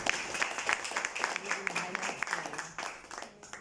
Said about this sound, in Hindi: जोरदार तालियां करेंगे हम अपने मोदी घर के फैन के लिए